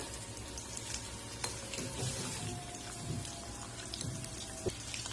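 Cheese-stuffed, breadcrumb-coated chicken rolls fry in oil over medium heat, giving a steady dense crackle of fine popping bubbles with a few sharper pops, close and continuous, with no talking.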